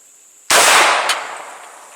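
A Hatfield 20 gauge SAS semi-automatic shotgun fires a single loud, close blast, followed by a sharp mechanical clack as the action cycles a shell, then a decaying ring.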